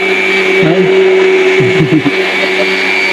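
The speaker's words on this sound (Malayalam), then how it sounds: "ഇതെന്തോ മിക്സിയിൽ ചട്നി എന്തോ റെഡിയാക്കുന്നതാണ്" A mixer grinder blending chilli chutney in Nepal whirs loudly and continuously at close range, its motor pitch dipping briefly twice as the load shifts.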